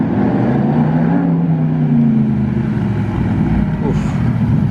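A Porsche GT3 RS supercar in Monaco gives a rumbling engine note that swells and fades among street noise, with someone talking over it.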